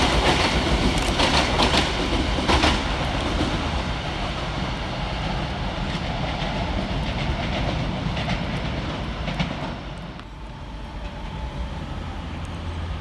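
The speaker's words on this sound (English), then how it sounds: "Arriving next into the station, the slightly delayed 1437 ScotRail service from Glasgow Central through to Edinburgh Waverley" A ScotRail Class 385 electric train pulling into Edinburgh Haymarket station, a loud, close, steady rumble with rhythmic wheel clatter over rail joints that gradually eases as it slows.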